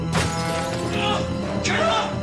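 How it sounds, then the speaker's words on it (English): A front door window shatters as a head is forced through it, a burst of breaking glass followed by a second crash and rattling debris over a dense noisy background. "He pushed Yelnick's head through the front door window"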